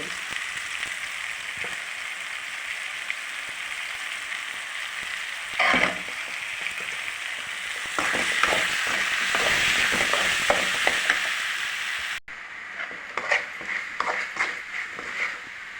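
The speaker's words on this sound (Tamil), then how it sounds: "இப்போ தக்காளி மசாலா எல்லாம் வதங்கிடுச்சு" Tomato masala sautéing in a pan, with a continuous sizzle broken by intermittent stirring scrapes, loudest in the middle and then quieter after an abrupt drop.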